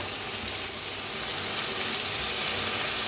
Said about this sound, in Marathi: वांगी मटकी आपण भाजून घेऊया पहिला वांगी मिक्स करून भाजून घेऊया